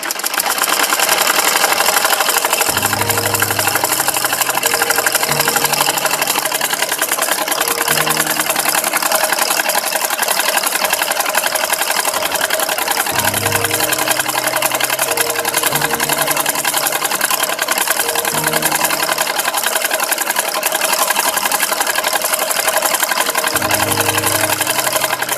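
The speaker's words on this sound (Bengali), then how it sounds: "তো চলুন আমি আরেকটি সেলাই করে নিচ্ছি।" A sewing machine stitching a baby skirt, loud steady mechanical whirring in repeated runs, pausing briefly between bursts of stitching.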